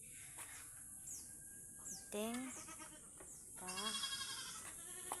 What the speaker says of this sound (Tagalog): Ang ating mga alagang kambing.